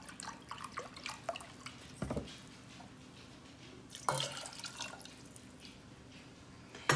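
Chicken stock poured into a pan of dressing gives a faint, wet trickle with scattered drips and splashes, a brief louder splash near the middle, all quiet and close.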